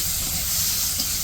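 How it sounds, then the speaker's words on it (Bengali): Onion and green chili frying in a wok for a village-style pangas fish curry with papaya, producing a short, steady, close hissing sizzle with no talk. "পেঁয়াজ আর কাঁচামরিচ দিয়ে দিল কড়াইয়ে।"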